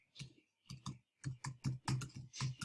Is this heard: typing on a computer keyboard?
yes